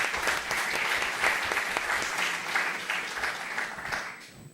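Audience applause at a panel discussion held during a football film festival, a moderate, fairly distant patter of many hands that gradually eases off.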